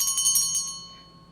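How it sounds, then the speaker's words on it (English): A small bell ringing in a rapid shimmering jingle of several quick strikes, bright and clear, then fading away into quiet within about a second. "Was that a bell ringing?"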